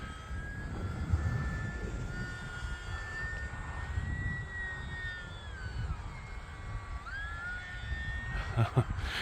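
A small remote-control UMX Pitts model airplane flies outdoors, its thin high-pitched electric motor whine holding steady, then dipping and rising again with throttle changes, over constant wind rumble at moderate distance.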